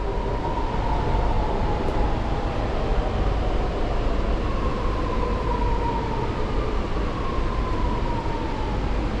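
A driverless train departing a station rumbles steadily close by, a constant heavy roar with a faint whining tone sliding across it as it moves off.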